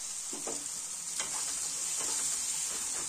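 Soya chunk mixture tipped into a pan of frying masala for soya chunks bhurji, giving a steady low sizzle with a few stirring scrapes, close and unaccompanied by any voice.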